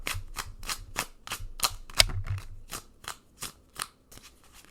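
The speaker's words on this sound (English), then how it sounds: "as I shuffle these cards." Tarot cards are shuffled in a quick series of crisp riffling bursts, about a dozen sharp flutters in an uneven rhythm, close and clear with no talk over them.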